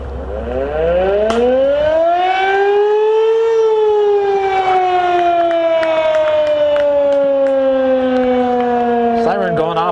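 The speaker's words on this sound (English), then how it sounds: "Siren going off at the Cannons Corners station." A civil defense siren wails at the Cannons Corners fire station, a loud rising then slowly falling tone that fills the whole stretch and carries over a ballgame crowd in the background.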